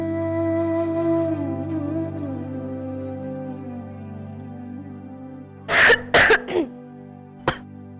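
Soft sustained music plays, then a few short, sharp coughs from a girl burst out close by, followed by one more brief cough.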